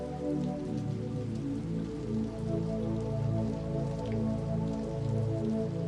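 Steady rain patters on a surface in a slow, even wash of drops, close and continuous with no voices over it.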